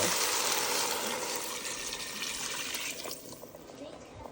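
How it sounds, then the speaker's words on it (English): Water pours steadily into a pot of washed diced potatoes and browned smoked sausage for a soup, a close, rushing splash that slowly eases and thins out toward the end. "I'm going to cover it with water."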